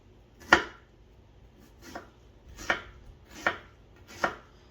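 A Shun knife slices yard long beans on a cutting board, with five crisp, separate chops spaced roughly every second or so. They sound close and clean against a quiet room.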